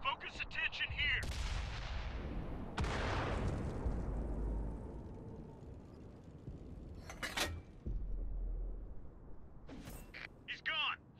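A tank's main gun fires in the World of Tanks console game, heavy booming blasts with long rumbling decay, set among continuous loud battle noise and voice chatter.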